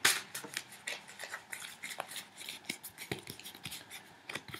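Crisp, papery tarot card shuffling in a steady run of quick riffles and slaps, close and fairly loud with no talking.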